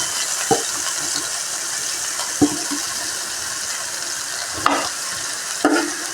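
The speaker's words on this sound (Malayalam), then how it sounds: "ഓരോ കഷ്ണങ്ങളും ഇട്ട് നമുക്കിത് ഫ്രൈ ആക്കി എടുക്കാം" Small pieces of food dropped into hot oil in a pan, a steady frying hiss with four distinct plops and splashes as each piece goes in.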